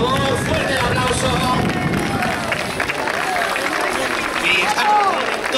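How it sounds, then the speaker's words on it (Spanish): Crowd at a Catalan league BMX race in Terrassa cheering and clapping as a rider is introduced, a steady dense roar of voices and applause with chatter mixed in. "Por favor, fuerte el aplauso"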